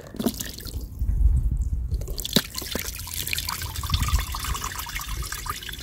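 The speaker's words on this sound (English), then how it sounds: "this draining process is taking a lot longer than I had expected" Lye water drips and trickles as it drains from wood ashes, a steady patter of drops with a faint running flow underneath, close and fairly quiet.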